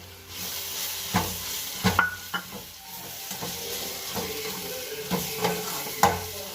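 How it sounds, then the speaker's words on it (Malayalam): Chicken masala spices sauté in a pan with a steady low sizzle, while a spoon stirs and scrapes through them in irregular clinks and knocks, close and clear. "ഇത് നന്നായിട്ട് മിക്സ് ചെയ്ത് കൊടുത്തിട്ട് ഇതിൻ്റെ പച്ചമണം പോണ വരെ ഒന്ന് വണക്കിയെടുക്കാം"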